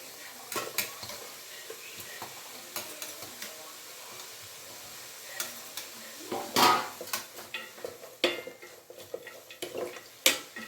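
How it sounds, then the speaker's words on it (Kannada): Greens go into a pan for vegetable soup and are stirred, with soft sizzling and irregular scraping, clattering utensil strokes that grow busier and louder toward the end, heard fairly quietly. "ಹಾಗೆ ಈಗ ಸೊಪ್ಪನ್ನ ಹಾಕ್ತಾ ಇದ್ದೀನಿ"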